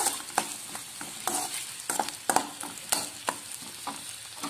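Egg rice is stirred in a pan, giving repeated scraping and clattering strokes of a spoon over a soft background sizzle, with no voices.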